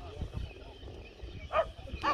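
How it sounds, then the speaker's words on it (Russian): Two distant dog barks at seagulls ring out over outdoor wind noise on a Kuyalnik beach, spaced about half a second apart, with faint voices in the background. "Чайки кричат, собака на них гавкает."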